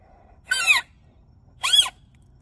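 Two loud, shrill whistles blown through a blade of grass held between the thumbs, each a short warbling squeal of about a third of a second, separated by a pause, with no talking.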